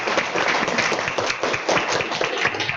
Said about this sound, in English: So can we give our students a round of applause again?